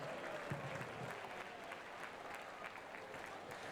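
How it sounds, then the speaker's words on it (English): A crowd claps steadily and loudly for several seconds at an athletics grand final, a dense, continuous wash of applause with no pauses. "Can I get a big round of applause for all our competitors here tonight?"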